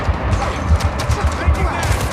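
Automatic gunfire crackles in the Gangstar Mirage City video game, a fast volley of overlapping shots at steady loudness, mixed with brief game voice callouts.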